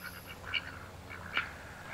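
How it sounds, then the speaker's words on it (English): African geese at a park give two short, nasal honks about a second apart, faint and a little distant over a low outdoor background hum. "They are African geese, or African ducks"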